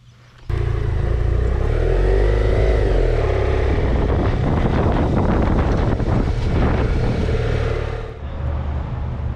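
Steady, loud wind buffeting a rider on a motorcycle on a travel day toward the Colorado Rocky Mountains, a continuous roar that swells at onset and holds, easing slightly near the end, with no talking.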